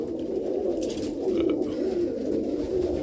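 A pigeon hen, descended from the Chacon hen, coos in a loft, a steady low soft cooing that rises and falls across the whole stretch, close and moderately loud with no talk over it.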